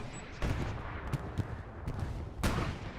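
Explosions from an airstrike bombing run in the World War II shooter Hell Let Loose, in a competitive match at Driel: several sharp, booming blasts, spaced irregularly over steady battlefield rumble, with one heavier near blast late on.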